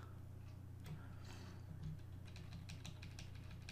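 Computer keyboard keys are pressed in quick, light clicks, a few taps early and then a faster run of keystrokes toward the end, faint under a steady background hum, with no talking.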